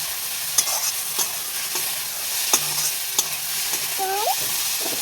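Tomatoes fry in a pan with a steady sizzle, punctuated by repeated scrapes and knocks of a stirring utensil against the pan, close and clear with no talk.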